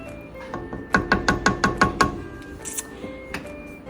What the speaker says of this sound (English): so let's give that a stir